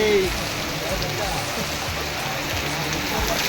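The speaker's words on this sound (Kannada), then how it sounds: "ಮೊದಲನೇ ಮಳೆ ಬರ್ತಿದೆ ನೋಡಿ ಫ್ರೆಂಡ್ಸ್" Steady first rain of the year patters on a surface, a dense, even hiss with scattered drops, close and constant throughout.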